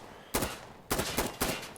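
Bursts of full-auto rifle fire from the shooter Insurgency Sandstorm: four sharp, loud volleys with short gaps, close and dry, no talking over them.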